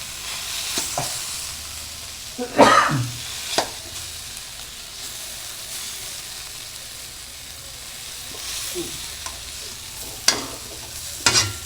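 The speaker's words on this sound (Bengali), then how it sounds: "আজকে আর আমি বটি দিয়ে কেটে নিই, খুন্তি দিয়েই কেটে নেব" Boiled gathi kochu taro is cut with a metal spatula in a pan, giving a few scattered scraping knocks against a soft background sizzle, close and moderate in level.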